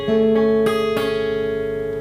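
Acoustic guitar chord shape from the pre-chorus of a song, with a fourth finger added; a few plucked and strummed notes ring out and sustain close and clear.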